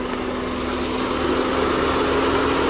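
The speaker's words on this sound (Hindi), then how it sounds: "ये इसका फ़ैन है जो इतनी आवाज़ कर रहा है" The radiator fan in the engine bay of a Volkswagen Polo with a 1.2 engine runs loudly, a steady, close, continuous whirring roar with a constant hum and no pauses.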